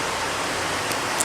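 Heavy rain pours down as an even, dense roar of hiss, steady and loud throughout this short moment, with no voices.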